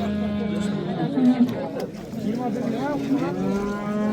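Dairy cows low at the Nookat livestock bazaar. Drawn-out moos rise over a constant background of crowd chatter and nearby talking.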